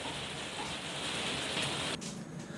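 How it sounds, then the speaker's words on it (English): Steady rain falling outdoors in the UK, a continuous dense hiss of drops on surfaces holding even and loud throughout, with a slight change in texture near the end. "it's been raining for a long time"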